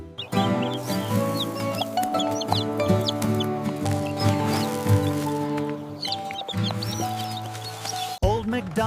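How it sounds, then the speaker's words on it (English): Chicks cluck on a cartoon farm in a nursery-rhyme song, with bright, repeated clucking calls over sustained musical tones and what sounds like singing. "And on that farm he had some chicks"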